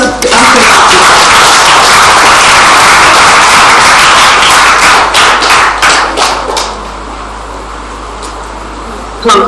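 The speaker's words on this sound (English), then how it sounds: "Let's give a big round of applause to Asha." A career fair audience gives a big round of applause for a speaker, a loud, dense burst of clapping that thins toward the end, with a few sharp claps standing out and a low hum underneath.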